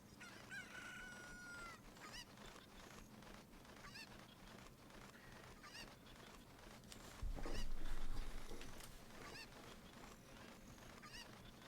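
Chickens in Zelda: Ocarina of Time, repeated clucks and crowing calls over a steady game background, with a louder low swell partway through.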